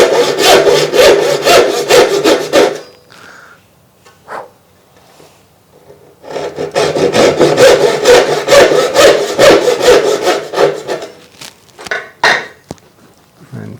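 A hand saw cuts through wood clamped in a pattern maker's woodworking vise, giving two bursts of steady rhythmic back-and-forth rasping strokes separated by a quiet pause with a few light knocks.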